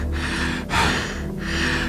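Steady ventilation rush in an indoor live fitness class, surging and dipping like heavy breathing in roughly two long cycles, loud and close throughout.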